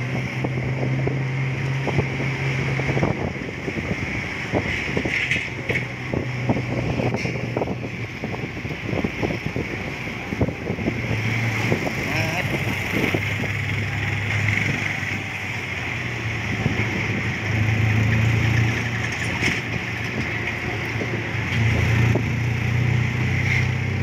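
A tuk-tuk rides through the streets of Yaowarat, Bangkok's Chinatown, its small engine droning steadily while wind buffets the microphone and traffic clatters around it, with no talking.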